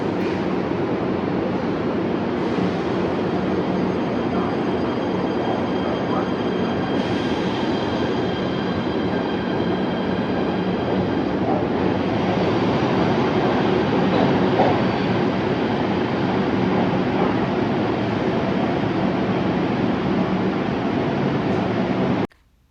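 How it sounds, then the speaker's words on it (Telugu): A New York subway train moves through a busy station: a sustained, loud rumble of wheels on rails with high squealing tones rising and shifting over roughly twenty seconds, ending abruptly. "ఈ ట్రైన్ కూడా ఇప్పుడు మూవ్ అవుతోంది."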